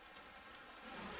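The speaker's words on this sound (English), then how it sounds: "it's the Beijing summer rain, which most definitely is setting the mood" Beijing summer evening rain falling steadily, a dense hiss of drops that grows slightly louder toward the end, with no voices.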